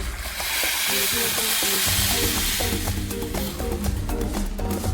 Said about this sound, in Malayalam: നമുക്കിനി അരപ്പ് ഇതിലേക്ക് ഒഴിച്ചു കൊടുക്കാം